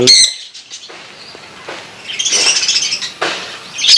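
Several small caged pet birds chirp and tweet in short bursts close by at feeding time, with brief squawks and quiet gaps between calls.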